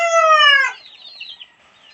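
A rooster lets out a single loud, close crow that breaks off abruptly, followed by faint, scattered chicken clucking in the background.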